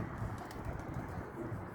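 Faint, low pigeon cooing murmurs under a steady background hum, soft and continuous.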